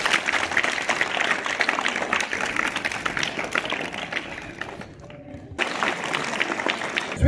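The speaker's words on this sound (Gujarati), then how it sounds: "તાળીઓથી વધાવી લઈશું" Audience applause at a primary school Independence Day ceremony, with sustained clapping from a crowd that briefly dies down and then resumes.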